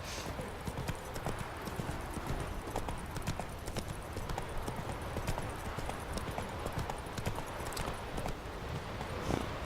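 A horse walks at a steady, close clip-clop pace through the Southern Skellige Isles of The Witcher 3, hooves thudding evenly throughout over soft ambient noise.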